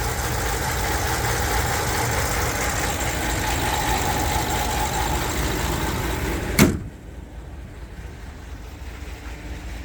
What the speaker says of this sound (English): that's what she sounds like under the hood with the HELLFIRE cam